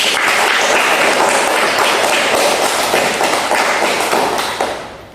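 Students in a group counseling session applaud, giving sustained dense clapping from a room full of people at a steady loud level that fades out at the end.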